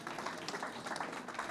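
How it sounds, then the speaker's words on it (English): Audience applause at a trade and tax forum, a steady wash of many hands clapping at moderate volume with no voices over it. "Please, can we give him a round of applause,"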